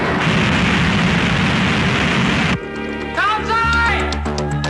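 Missiles striking in an ICBM attack, heard as a loud continuous roar of explosions that drops off abruptly and gives way to ringing electronic tones and whines.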